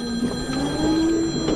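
A mobile phone rings inside a car during a driving-school lesson, a steady electronic ringtone with sustained tones running through the whole short stretch over faint cabin noise, with no one talking.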